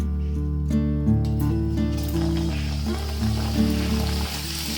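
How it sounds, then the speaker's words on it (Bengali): A homemade potato snack is frying in hot oil over a gas flame turned down low, giving a steady soft sizzle that swells after the first couple of seconds beneath sustained background music. "এবার যে টিফিনটা আমি বানালাম সেই টিফিনটা এই তেলের মধ্যে দিয়ে দিলাম।"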